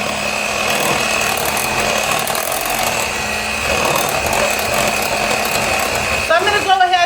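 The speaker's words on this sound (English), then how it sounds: "You don't even need a hand mixer for this, but I'm using it." An electric hand mixer whirs steadily through Texas sheet cake batter, a loud continuous mechanical hum with slight shifts in pitch as the beaters move, and someone talks briefly over it.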